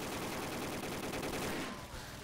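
Rapid gunfire crackles in a Call of Duty zombies video game, with dense overlapping bursts of shots that fade toward the end.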